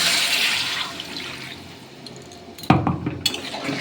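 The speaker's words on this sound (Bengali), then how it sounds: "এই মিক্সি ধুয়ে আমি জলটা দিয়ে দেবো" Rinse water from a mixer jar pours into a pot of new-potato aloo dum, a soft splashing trickle that fades before a sharp clatter of the jar against the pot and a few knocks.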